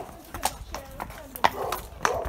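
Horses' hooves clip-clopping at a walking pace, several sharp uneven hoof strikes close by over a short stretch, with people talking nearby.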